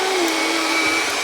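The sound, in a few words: vacuum cleaner cleaning the floor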